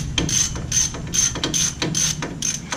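A hand ratchet snugs lug nuts onto a 2014 Ford Explorer wheel hub with new studs, giving quick repeated clicking strokes in a steady rhythm, close and fairly loud, with no talk.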